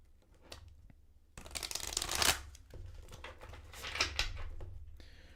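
Tarot cards shuffled by hand at close range, a run of crisp papery riffling bursts, with a louder flurry in the middle and another near the end, and no voices.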